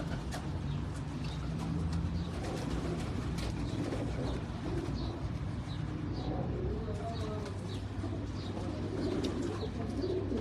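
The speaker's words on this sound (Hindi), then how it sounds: "हाँ बहुत अच्छे कबूतर" Pigeons on a Karachi rooftop coo repeatedly, soft low rolling calls recurring through a steady outdoor background with faint chirps and occasional wing sounds.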